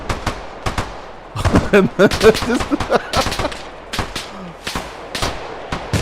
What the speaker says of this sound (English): That was a shot right there.